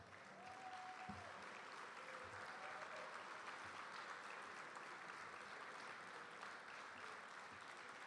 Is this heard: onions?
no